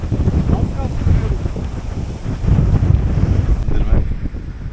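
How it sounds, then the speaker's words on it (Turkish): Strong wind of about 15 knots roars and buffets the microphone continuously on open water at Arsuz, with gusting surges and a rushing, turbulent low rumble throughout. "rüzgar çıktı"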